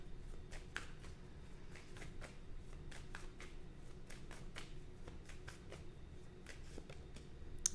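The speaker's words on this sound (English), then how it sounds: "As I'm shuffling again" Tarot cards being shuffled produce a series of soft, quick riffling snaps and flicks at an irregular pace, quiet and close, with no talking.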